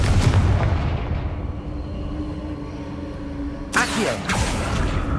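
A Confringo spell goes off in Hogwarts Legacy as a deep, rumbling booming blast that fades out, and then a second sharp burst hits near the end.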